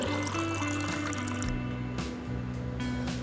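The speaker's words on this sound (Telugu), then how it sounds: "ఒక గిన్నె పెట్టుకొని దాంట్లో కొంచెం వాటర్ వేసుకొని" Water is poured into a cooking pot for a mushroom curry, giving short splashing gushes over a steady tonal background hum.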